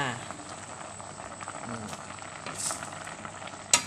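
Thai coconut curry with lotus stems and mackerel bubbling at a steady boil in a pot, a constant soft hiss and simmer with a voice speaking over it.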